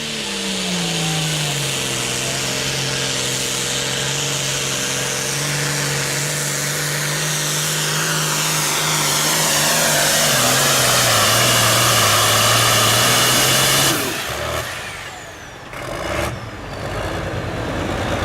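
9,300-pound Super Farm class tractor roaring through a pull at a 2010 Shedden, Ontario tractor pull, a loud sustained engine drone with shifting pitch that cuts off sharply near the end, leaving sputters and crowd noise.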